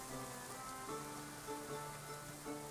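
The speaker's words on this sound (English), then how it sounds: "It is raining like crazy" Heavy rain in the medieval colony-building game Going Medieval makes a steady, dense hiss with soft background music underneath, continuous and fairly quiet, with no talking.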